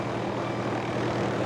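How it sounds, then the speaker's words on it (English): A rescue helicopter hovers over floodwaters, its engine and rotor making a steady, loud, unbroken roar with no voices. "firefighter Ron Cummings clings precariously to the chopper's wet skids."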